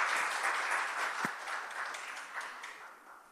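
An audience at a conference on the pandemic and East Asia breaks into steady applause, many hands clapping together at moderate distance, fading gradually toward the end.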